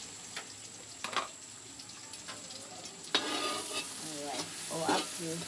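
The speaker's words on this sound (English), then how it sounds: "I'll have to stir it for a minute." Fried rice with fish sizzles in palm oil and gets stirred, producing a steady close frying hiss. Scraping stir strokes come in irregular bursts and grow louder and busier toward the end, with no one talking.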